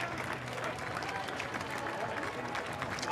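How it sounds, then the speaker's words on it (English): A racecourse crowd at York applauds from a distance, a faint, continuous wash of clapping and crowd murmur with a commentator's voice over it. "You're getting a big round of applause."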